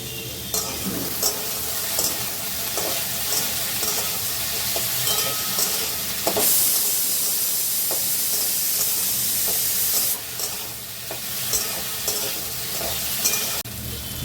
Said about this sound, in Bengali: ভালো করে আলুটাকে ভেজে নেব।